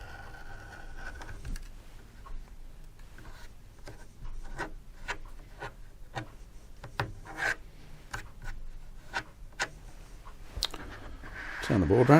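A rotary cutter slices quilting fabric along a ruler on a cutting board, giving a run of short, regular scraping strokes at close range, with a louder rasp at the end.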